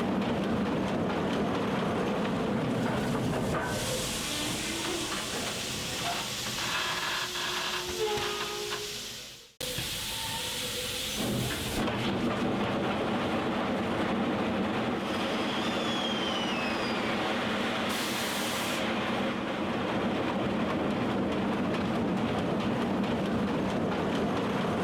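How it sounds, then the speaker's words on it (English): A train locomotive in a deliberate wheel slip makes a loud, continuous grinding rumble with a whining hiss. The sound cuts out briefly partway through, then resumes just as heavy. "this one is on a deliberate wheel slip."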